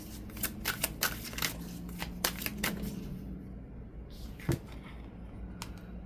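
Traditional tarot deck being shuffled by hand, a quick run of crisp riffling card snaps in the first few seconds, then a pause and a couple of isolated flicks, close and clear with no talking.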